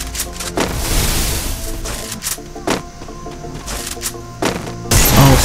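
Gunfire in an online shooter game ending in a headshot: several sharp, loud shots spaced across the stretch with a continuous game backdrop, the last burst louder and denser.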